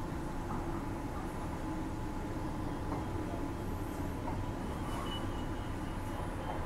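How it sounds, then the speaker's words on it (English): A Transperth Fremantle line passenger train rumbles steadily through a station near Mosman Park, Perth, a low continuous roar with faint squeals and clanks above it, no voices. "And there's the Fremantle train."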